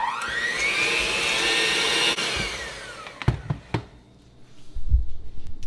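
An electric mixer whirs loudly while beating egg whites with sugar, a continuous rising whine for about three seconds before it stops, followed by a few knocks and clatters of the bowl.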